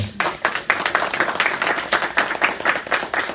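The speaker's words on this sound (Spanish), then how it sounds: "Dame un fuerte aplauso al Señor." A church congregation claps loudly and close, with a steady rhythm of distinct hand claps blended into hearty applause for a few seconds.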